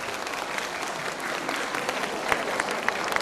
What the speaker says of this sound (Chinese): 让我们掌声有请蔡老师